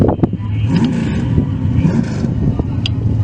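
A drag racing car, an old Camaro, revs loudly at the Julesberg NHRA race track, with a steady engine roar, brief flaps of wind noise and occasional sharp pops close to the microphone.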